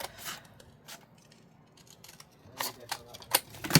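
Scissors snip through paper while a handmade freestyle journal is trimmed, a few quiet separate cuts early on, then louder crisp snips clustered near the end, close and alone without talk.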